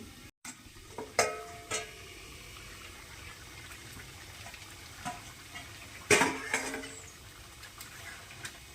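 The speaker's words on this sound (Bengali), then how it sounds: "চিকেনে অনেকটা জল বেরিয়েছে ভালো করে জলটা মারিয়ে কষিয়ে নেব" Chicken cooking down in a pot, with the water it released being stirred off: scattered close scrapes and clatters over a low simmering sizzle, with a louder burst of stirring about two-thirds through.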